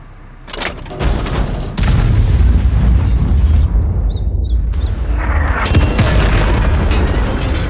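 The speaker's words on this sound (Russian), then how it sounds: "Попробуйте мое пушечное ядро остановить." Heavy booming cannon blasts from a World War II Soviet battle game, loud and close, followed by a sustained rumbling roar of battle noise.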